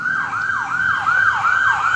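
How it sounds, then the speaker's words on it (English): A wailing emergency siren sweeps up and down repeatedly in a steady cycle, loud and continuous with faint road noise beneath. "See the sirens?"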